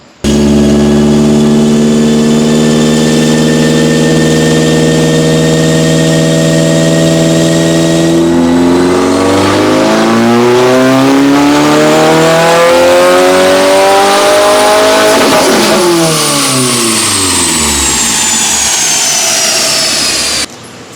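A 2022 Subaru WRX with custom J-pipe revs hard on a dyno on E40 ethanol, a loud sustained engine drone climbing steeply in pitch through the gears, with turbo whoosh and a final rising pull before cutting off.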